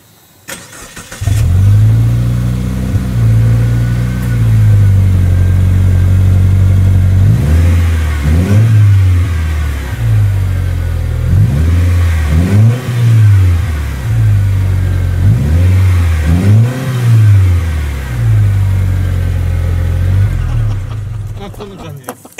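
Subaru WRX S4 2.0GT with its 2.0-litre engine idling, then blipped in short paired revs that rise and fall several times, loud and close, with people talking over it.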